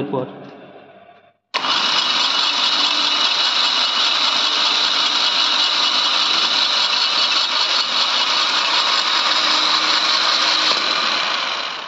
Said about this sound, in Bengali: সুইচ প্রেস করার সঙ্গে সঙ্গে কিভাবে এই ফ্লাই হুইল ঘুরছে